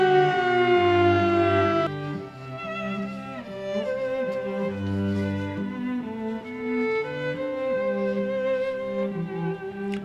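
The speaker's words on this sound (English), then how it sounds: "12 o'clock, what happens? The sirens go off." Loud wailing noon town sirens in Three Oaks, Michigan, with layered tones, hold and shift pitch continuously, sounding fairly close and dominating the scene with no talking.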